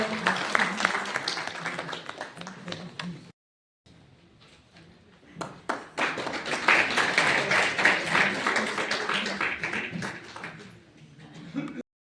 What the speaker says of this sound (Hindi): आप सभी से अनुरोध है कि आप भी तालियों के साथ स्वागत सत्कार करें